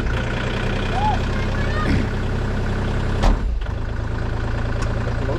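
A Kubota KX040 excavator's diesel engine runs with a steady, loud low rumble, with a sharp mechanical clunk partway through, then keeps idling close by.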